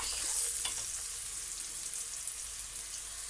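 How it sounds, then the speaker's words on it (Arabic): Onion fries gently in oil, making a soft, even hiss with faint crackles, steady and fairly quiet throughout. "البصلايه بتاعتي طبعا مش هنحمرها قوي"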